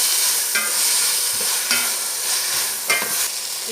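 Gobi manchurian with capsicum being stirred in a hot pan, giving a steady sizzle of frying with repeated scraping spoon strokes at close range.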